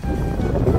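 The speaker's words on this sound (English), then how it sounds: "It's very windy out here, you can see." Strong wind buffeting the microphone, a steady low rumbling roar that swells slightly toward the end.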